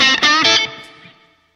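Electric guitar through a Line 6 Pod HD500 modelling a Fender Twin amp with vibrato and decay at zero: two or three loud strummed chords with wobbling tone, then a quick fade to silence.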